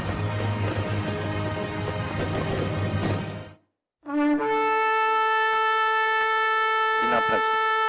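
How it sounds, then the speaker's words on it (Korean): A brassy trumpet or horn blast rings out at a New Year's Eve church service: a loud sustained note, a brief gap of silence, then a second long held tone with rich harmonics. "자, 이제 하나님 나팔 소리를 한번 들어보세요"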